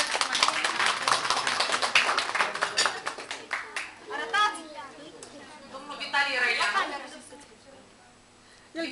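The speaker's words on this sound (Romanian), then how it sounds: "Da, aplauze." Audience at a gala clapping in a burst of applause that fades as people talk over it, followed by scattered claps.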